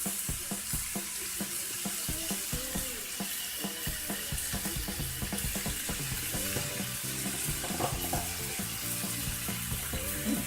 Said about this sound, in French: je vais écraser mon steak avec mes petits oignons